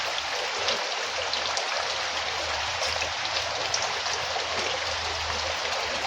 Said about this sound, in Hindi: देखिए इतना पानी गिर रहा है